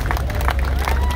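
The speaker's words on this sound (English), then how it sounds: "give these guys a round of applause" Crowd applauding at an outdoor car show: steady, dense clapping and cheering from many people, with a low rumble of background noise under it.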